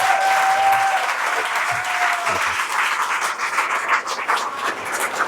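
Audience applause after a guest speaker's in-person talk, a dense, loud burst of many hands clapping that holds steady for several seconds, with a faint tone and some voices mixed in.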